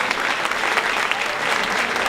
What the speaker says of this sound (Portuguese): Dê uma salva de palmas ao Senhor.